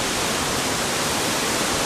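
Angel Falls roars from inside a tunnel hidden behind the falling water, a loud, unbroken wash of rushing water with no other sounds.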